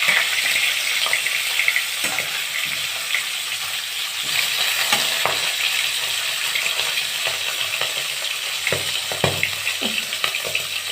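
Fish fries in hot oil with a continuous close sizzle, dotted with sharp pops and spits at irregular moments, and no talking.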